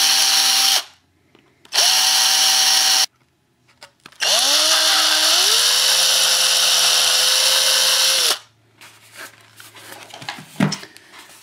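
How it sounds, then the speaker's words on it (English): A power drill bores holes in a rotor mast, whining through two short bursts and then one longer run of several seconds whose pitch rises as it spins up, followed by quieter handling noises. "And that gets those holes drilled in pretty quick order."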